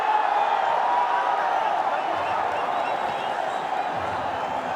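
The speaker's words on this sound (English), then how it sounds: "That's got the crowd on their feet. And there's a lot of buzz as well." A cricket stadium crowd roars and buzzes after two sixes in a row at a Bangladesh vs Pakistan T20 international, a steady, dense wash of distant cheering that holds level for several seconds.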